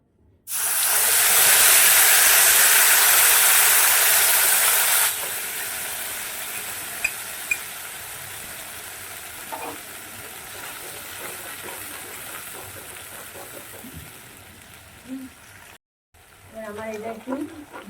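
Tomato, green chili and ginger paste hits hot oil for a vegetarian potato curry, setting off a loud, harsh sizzle that roars for several seconds, then settles into a quieter, steady frying hiss with a few stirring clicks and a brief voice near the end.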